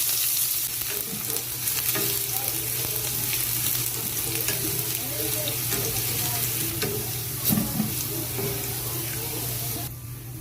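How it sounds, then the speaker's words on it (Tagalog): Sliced garlic frying in a new wok, with a steady close sizzle and occasional light clinks and stirring over a low constant hum. "Pa-fry natin yung ating garlic."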